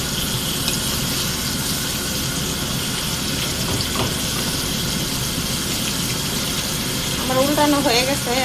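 Hilsa fish pieces frying in hot oil in a pan, with chopped onion added, give a dense, continuous sizzle that holds steady throughout and swells slightly near the end.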